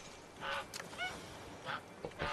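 Goose honking in a video game, several short nasal honks spaced irregularly over a couple of seconds against faint background noise.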